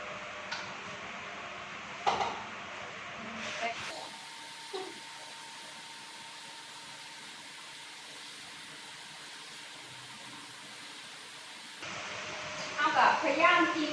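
Steady broadband sizzle of marinated pork ribs frying in a hot pan runs through most of the clip, with a few clatters and a voice near the end.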